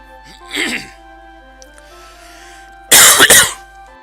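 Two bursts of throat clearing and coughing, a short one early and a louder, harsher double cough near the end, with quiet pauses between.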